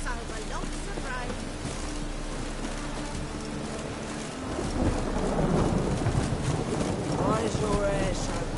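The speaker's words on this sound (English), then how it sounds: "It just rains and rains." Rain and thunder in The Witcher 3 video game, a steady wash of rainfall that swells into a heavier rumbling storm midway, with voices talking over it.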